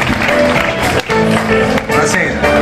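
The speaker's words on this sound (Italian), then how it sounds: "Un applauso alla squadra blu." Studio audience applauding the blue team after a round win on an Italian game show, steady clapping throughout with brief dips, music or voices mixed underneath.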